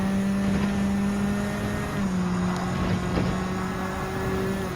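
Race cars in Gran Turismo 7 on the Deep Forest Raceway, a Porsche and a Nissan battling, engines droning at a steady high pitch, with one engine note dropping slightly partway through and tire and wind noise underneath.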